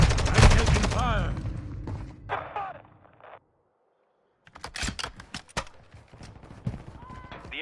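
Rapid bursts of automatic gunfire and sharp single shots ring out in a multiplayer military shooter game, loud and close, cutting off into a full second of silence before more scattered shots and clatter resume, with game voices heard between.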